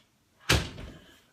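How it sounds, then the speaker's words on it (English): A door shuts indoors with one sharp, heavy thud that decays quickly, loud against an otherwise quiet room. "Close the door."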